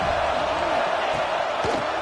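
Fans in an Auburn Tigers college football stadium cheer during a defensive play, a loud sustained crowd roar with a commentator talking over it.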